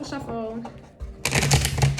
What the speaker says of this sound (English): Shuffling the deck on camera